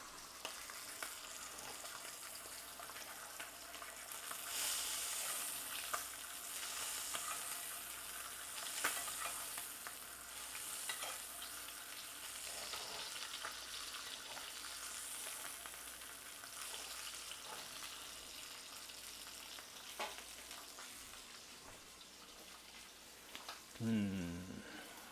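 Picanha steak fries in a pan, giving a steady, moderately loud sizzle that runs throughout with occasional spattering and a brief clatter near the end.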